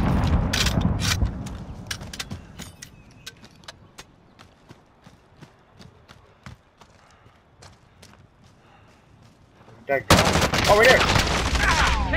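Gunfire in the Warzone video game: bursts of rapid automatic shots and scattered single cracks over a low rumble, ending in a loud, dense stretch of firing, with players talking over it.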